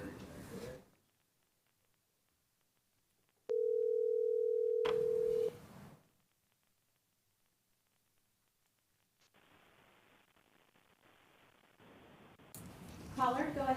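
A steady telephone line tone sounds for about two seconds while a public county commissioners meeting connects a caller by phone, framed by brief room noise before and crackly line hiss and shuffling after.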